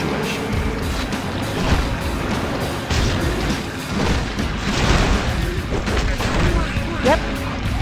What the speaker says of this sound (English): Orbital bombardment!